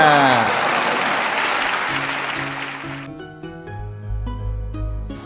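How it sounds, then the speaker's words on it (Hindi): Applause bursts out as a dense, loud wash of clapping for about three seconds, then gives way to a short bright musical sting with a low sustained tone. "तालियां"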